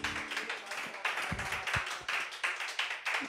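A church congregation claps together in a steady rhythmic beat during worship, close and lively, with voices faintly mixed in.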